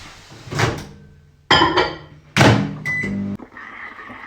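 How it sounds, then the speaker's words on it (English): A microwave door thunks shut, buttons are pressed, then the oven's steady hum starts up, close and fairly loud. "just put it in the microwave for 1 minute"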